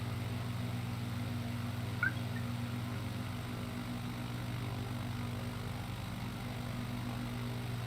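Propeller plane engine in a flight simulator game drones at a steady low pitch, with a constant hum that holds level throughout and one tiny chirp partway through.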